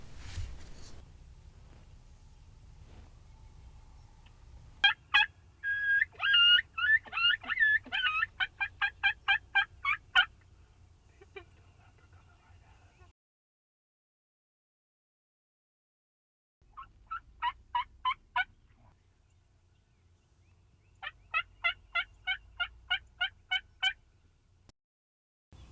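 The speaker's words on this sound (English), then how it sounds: "These turkey are very active." Mature wild turkey toms, longbeards strutting in a pasture, gobble in loud rattling bursts, several calls in quick succession, then a long pause and more gobbles. The birds sound moderately close against quiet background hum, with no talking.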